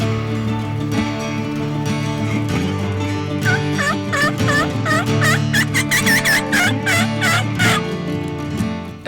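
A wild turkey tom gobbles repeatedly in the open, loud rattling bursts in quick succession over a steady background of other bird calls, with no voices.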